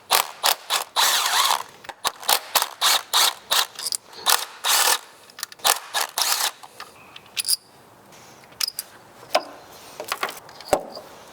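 A hand ratchet clicks in quick bursts while the 10 mm bolts holding the coil packs on a Nissan Qashqai engine are loosened. Bursts of rapid pawl clicks are separated by short pauses, thinning out to sparse single clicks and taps toward the end.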